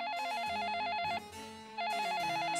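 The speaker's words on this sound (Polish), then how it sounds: "Nagle słychać dźwięk dzwonka." A telephone rings in a quiet moonlit room with a trilling electronic bell, two ring bursts separated by a short pause. It sounds close and clear, with no talk.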